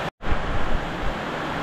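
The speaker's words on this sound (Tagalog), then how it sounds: "Palakas na palakas! My goodness! Magano lang ano eh, magano ng hangin." Strong typhoon wind buffets the microphone in a loud, continuous rushing roar, broken only by a very brief dropout near the start.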